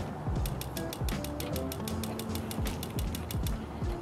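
Piezo ignition on a Mr Heater Buddy Flex propane heater clicks in a steady, rapid series of about fifteen sharp ticks, close and fairly loud, with some mechanical creaking in the background.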